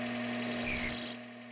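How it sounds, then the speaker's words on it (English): Metal lathe facing off the end of a part, a brief rising squeal of the cutter against the workpiece over a steady machine hum, swelling for about half a second and then fading back to the running drone. "So now what we're gonna do is face this off."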